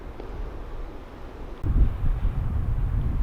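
Strong gusts of wind blow through the limbs of dead trees on a wet mountain wilderness trail, a steady low rushing roar that suddenly swells louder halfway through, with no voices.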